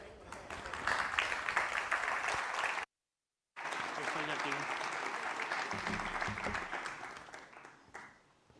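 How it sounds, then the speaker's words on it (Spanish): An audience applauds for the mayor of Valencia at a conference event, with dense sustained clapping that breaks off briefly and then resumes before fading out at the end. "Un aplauso para María José Catalá"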